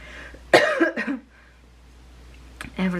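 Two short, sharp coughs close to the microphone during a quiet bead embroidery session, separated by a pause of near silence.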